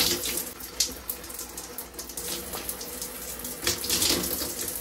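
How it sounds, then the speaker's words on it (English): Tap water running and splashing while a lotion pump bottle is rinsed out in a sink, a continuous close rushing stream with uneven spatter bursts as the bottle moves under the flow. "And you just keep rinsing it until it's done."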